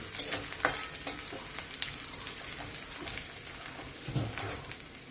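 Whole cumin and ginger frying in a small amount of oil, with a soft, steady sizzle and occasional light pops and stirring clicks, fairly quiet and close with no talking.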